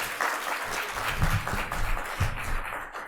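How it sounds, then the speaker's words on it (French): An audience at a French conference on patient expertise claps for an arriving speaker, a full, even round of applause with a few louder claps rising out of it, close and unbroken. "je vous remercie d'applaudir Guylaine qui a fait l'effort de venir."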